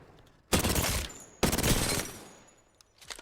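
Two long automatic bursts from a submachine gun in Apex Legends, emptying a full magazine while moving, each burst a dense rapid rattle with a short gap between, then a few trailing clicks and faint echoes.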